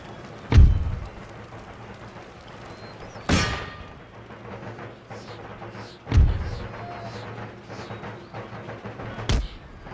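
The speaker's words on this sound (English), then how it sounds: "Still doing some good shelling here of these troops." Artillery shelling troops in Empire Total War (Darthmod), heard as four heavy booming thuds spaced a few seconds apart, each with a sharp attack and rumbling decay over quieter ambient battle noise.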